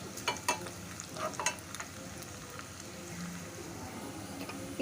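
Chopped onions and tempering spices fry in a little hot oil while being stirred. A few sharp scraping clicks come early, then a soft, steady sizzle runs close by with no one talking.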